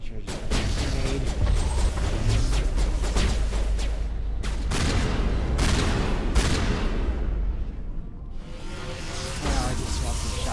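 Heavy combat gunfire fills a Mass Effect firefight against Geth, with loud overlapping shots, booming blasts and bursts that run almost without pause, briefly easing near the end.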